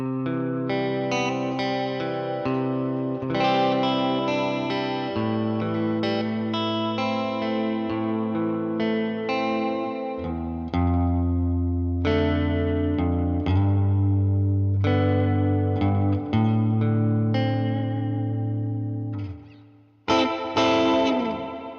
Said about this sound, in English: And with the reverb pedal engaged.